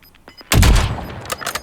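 A single loud, close sniper rifle shot in Warzone, a sharp crack with a heavy low boom that decays over half a second, preceded and followed by faint game noises.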